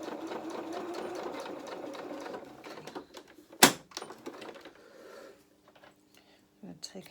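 Sewing machine stitching a pocket onto a small doll apron, a steady fast mechanical whir running for several seconds, then slowing and stopping with a sharp click as the stitching reverses, and a few soft handling knocks afterward.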